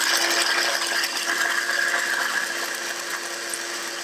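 A low-cost electric coffee grinder grinds beans at its coarsest setting for about four cups, a steady, loud gritty whir with rattling crunch running throughout; no talking.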